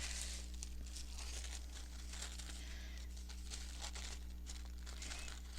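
Sewing tissue paper crinkles softly as it is folded over, a faint, steady rustle with small crisp crackles over a low background hum.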